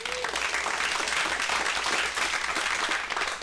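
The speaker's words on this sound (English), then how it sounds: "so let's give him a round of applause." An audience at a real estate tax seminar greets a presenter with a round of applause: dense, steady clapping at moderate volume that continues for the whole short stretch without speech.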